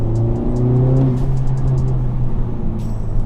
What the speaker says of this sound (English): So I've been shifting basically 5th to 4th to 3rd.